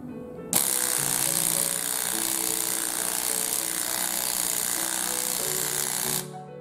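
A GT P60XW oil extra impact wrench runs continuously for about six seconds, a loud, steady hammering roar that starts abruptly and cuts off at the end, with no talk over it.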